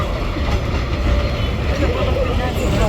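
A train rumbles past very close on Hanoi's Train Street, a broad continuous roar with some rattling, loud and steady from start to finish.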